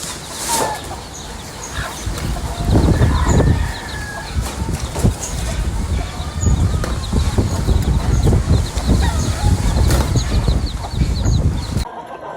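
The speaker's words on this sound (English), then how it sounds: "Here's one of our own sweater henny stags, just to show what a remarkable bird." Sweater hatch chicken stag on a farm clucking repeatedly amid busy outdoor farmyard noise, with other birds and faint clopping in the background.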